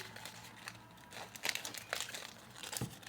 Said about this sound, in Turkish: Şu küçük, küçük paketi açmak istiyorum.